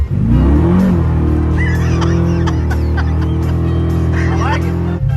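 A Chevrolet Malibu G-body street car with air conditioning, power steering and power brakes on a test drive, its engine idling then pulling away with a steady low drone while people talk over it.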